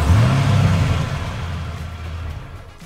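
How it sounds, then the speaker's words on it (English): A car engine revs up with a rising roar, then eases off and settles into a steady, fading rumble. "engine recordings"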